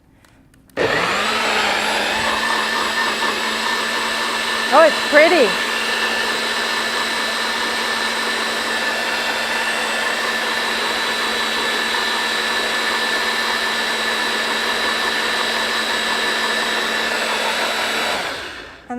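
A blender whirs steadily for about eighteen seconds, blending a green smoothie in a home kitchen, its loud even motor drone starting abruptly and cutting off at the end, with a brief spoken comment early on.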